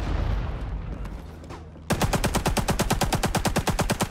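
An RP-46 machine gun in Rising Storm 2 on the Saigon map opens up after a quieter stretch and fires a long, loud, evenly paced automatic burst of rapid shots close by.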